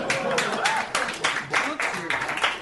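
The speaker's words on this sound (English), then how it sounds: "People are clapping because Spencer hates humanity." Audience clapping at a live comedy podcast recording, a crowd applauding in uneven bursts with voices talking and calling out over it.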